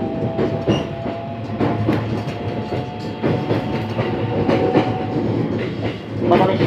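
A JR 223 series Special Rapid train runs on rails from the interior, a steady rumbling roar with rhythmic clickety-clack over rail joints and a faint tonal whine throughout.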